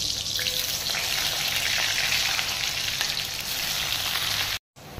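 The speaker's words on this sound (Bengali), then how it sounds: "দুটো করে সিটি দিয়ে রেখেছি, একটু লবণ দিয়ে ভেজে নেব।" Pressure-cooked boiled potatoes frying in oil with salt, a loud, dense, continuous sizzle up close that cuts out briefly near the end, with no speech.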